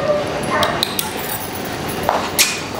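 A dog in a collar-training setting whimpers and gives a few short yips amid a busy background of ambient noise and faint clinks, with speech also present.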